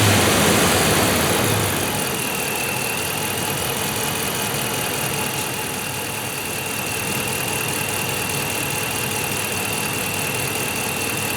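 A 5.7L Hemi V8 in a 2010-19 Dodge Ram idles steadily while warming up after a thermostat replacement, a constant low engine drone with a louder start that settles into an even hum, no voices.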